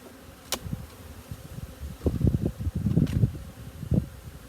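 Honey bees buzz faintly near the microphone, with soft rustling and bumping sounds as they move about a hive during honey extraction; no one speaks.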